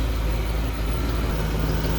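A Ford Mustang engine idles steadily with a deep, continuous low rumble and a raspy hiss from an exhaust leak, close and even throughout with no talk.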